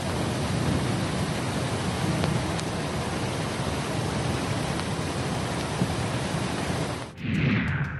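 Floodwater after a cloudburst in Jammu and Kashmir rushes as a dense, steady roar of water that fills the scene and drops off sharply near the end, with no voices over it.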